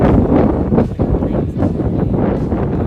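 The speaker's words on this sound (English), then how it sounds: "it's extremely windy here right now" Strong, gusty wind buffets the microphone near a volcanic area in Costa Rica, a loud continuous roar that swells and dips without pause.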